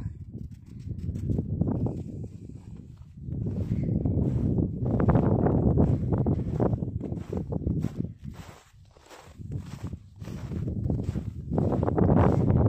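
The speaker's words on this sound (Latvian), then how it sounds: "Ai, kāds nepatīkams vējš." Cold winter wind buffets the microphone in heavy gusts, rising and falling in low roaring bursts with brief lulls between.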